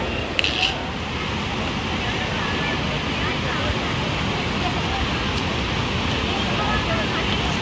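Bogatha waterfall in heavy flow, a steady broadband roar of rushing water held at an even level throughout, with a faint click near the start and no clear talk over it.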